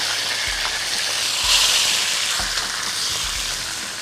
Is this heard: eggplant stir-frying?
yes